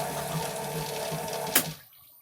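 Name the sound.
boat bilge pump running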